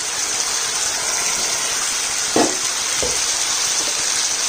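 Steady, bright sizzling of food frying in a pan, with a couple of brief clinks partway through.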